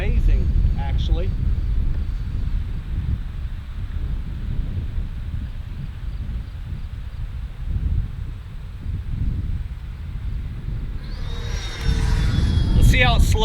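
Freewing L-39 Albatros RC jet on its maiden flight making a second pass in strong gusty wind, a steady whooshing jet drone under heavy wind rumble that swells louder toward the end as the model passes near.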